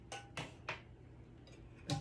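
A frying pan is handled in a home kitchen, giving a few sharp metallic clinks and clatters spaced irregularly, the last one loudest, against a quiet room with no talk.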